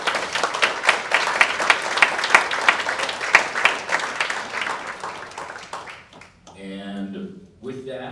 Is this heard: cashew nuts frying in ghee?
no